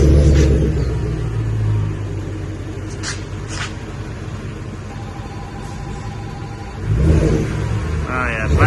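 A 2014 Chevrolet Silverado pickup engine with a dual-in, dual-out Magnaflow muffler and factory catalytic converter rumbles at idle with a deep, steady low-end drone, swelling briefly as it revs near the end.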